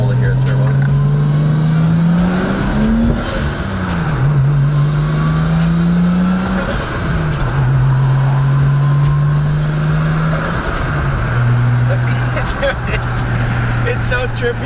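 A turbocharged truck engine pulls hard under load, its steady drone rising in pitch through several gear changes over about fifteen seconds, loud and close with a continuous roar throughout.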